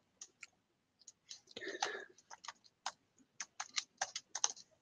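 Typing on a computer keyboard, quiet and close, in irregular bursts of clicks with one brief denser flurry in the middle.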